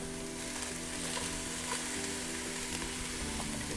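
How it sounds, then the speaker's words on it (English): Steady, crackling sizzle of onions frying in a hot pan, continuous and close, with faint stirring noises and no talking. "You can hear that baby sizzle."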